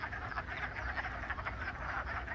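A loud, steady chorus of mating-season toads croaking together, with many overlapping raspy calls that pulse without pause and sound near.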